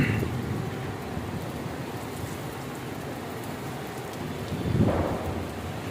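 Heavy rain falling steadily in New Muslim Town, Lahore, a dense continuous hiss close by with a brief louder swell of splashing near the end; no talking.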